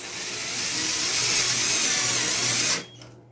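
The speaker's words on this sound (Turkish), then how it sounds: "Evet, birinci vidamızı attık." A power drill drives a screw into a window frame for about 2.8 seconds, a steady, loud whine that cuts off abruptly, with no talking.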